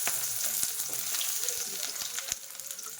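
Mustard seeds sizzling in heated oil while cooking Rayalaseema-style red chutney, a close, steady hiss broken by a few sharp pops and light clicks, fairly quiet, no talk.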